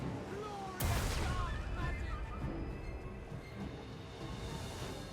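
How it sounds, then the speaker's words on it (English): Cannon fire in the fantasy strategy game Total War: Warhammer 3, one sharp, loud blast followed by a long rumbling tail and scattered distant battle noise. "Shoot her with some cannonballs."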